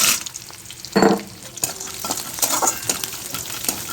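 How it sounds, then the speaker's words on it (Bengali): Peanuts fry in a pan with a loud, close sizzle, broken by clattering stirs and scrapes of a spoon against the pan. "আমি এখন বাদামটা দিয়ে দেবো"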